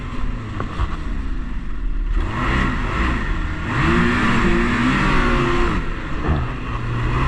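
A Ski-Doo Expedition Sport 900 ACE snowmobile engine (2026, Gen5) idles and revs up and down steadily, close by, a smooth droning motor with rising and falling pitch.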